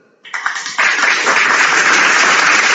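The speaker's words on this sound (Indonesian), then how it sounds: "Tepuk tangan dulu untuk orang Kristen." Applause from a crowd during a heated religious debate, starting with a few scattered claps that quickly swell into loud, steady, dense clapping.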